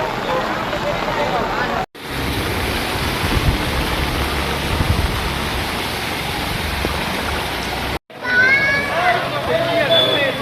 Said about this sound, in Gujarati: અત્યારે અહીંયા વરસાદ ચાલુ છે